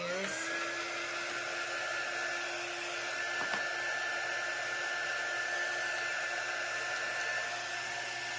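A hair dryer blows steadily on a drying craft project, a loud continuous whir that holds an even pitch from start to finish with no talk over it.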